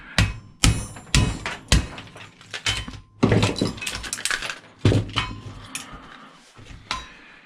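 A ball peen hammer strikes the plastic shell of a cash register repeatedly, giving sharp, irregular cracking blows at close range with rattling debris between hits and no talking.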